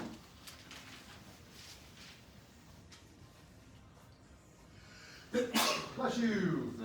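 A single sharp sneeze bursts out near the end, following a stretch of quiet classroom murmur.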